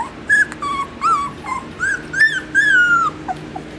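Weimaraner puppies from a hunting-dog litter whimper and cry in a string of high, wavering whines and yips, close up and otherwise quiet.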